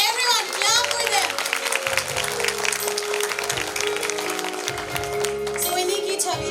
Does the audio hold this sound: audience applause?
yes